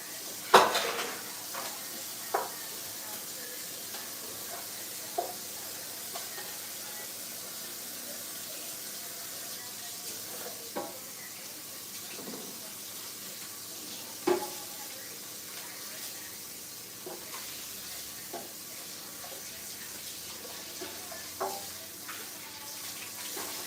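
A rusty metal loaf pan is washed in a sink: quiet splashing water with scattered, sharp clinks and scrapes every few seconds, close by and without talk.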